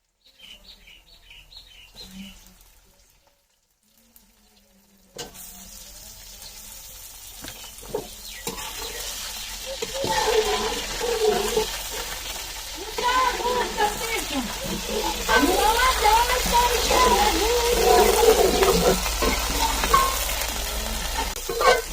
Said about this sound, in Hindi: पहले ये सारा चिकन जो है ना अच्छे से कर लूँ मैं फ्राई